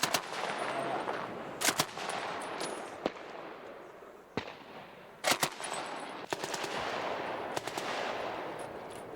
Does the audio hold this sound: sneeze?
no